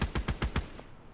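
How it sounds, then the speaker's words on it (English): Gunfire in the video game Army of Two, a quick burst of five evenly spaced loud shots close up, then a fading tail. "Where are they shooting at from, though?"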